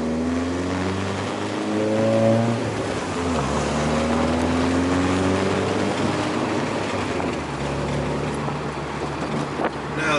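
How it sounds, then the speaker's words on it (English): A modified VW MK4 GTI drives along with a steady, droning exhaust note that rises and falls with engine revs, loud and close throughout, with no talk over it. "One of the other big issues that I've had with this car is the exhaust crackling and popping."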